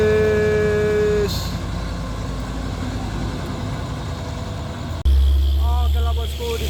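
A Mitsubishi Canter Euro 4 truck struggling on an uphill climb, its engine rumbling steadily before suddenly roaring into a loud, deep rev near the end, with voices talking over it.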